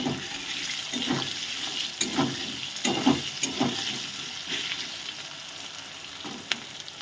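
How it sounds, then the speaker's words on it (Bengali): Potatoes frying in a pan with slit green chilli, salt and turmeric, giving a steady sizzle broken by repeated scraping stirs at a close, moderate level, with no talking. "এবার আলুগুলো একটু ভাজা ভাজা হোক"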